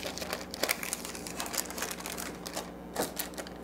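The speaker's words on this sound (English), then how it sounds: "I have 2 pieces of parchment paper that I'm going to line this with" Parchment paper crinkling and rustling while being pressed into a baking pan for holiday cookies, close and fairly quiet, with soft irregular crackles and taps and no talking.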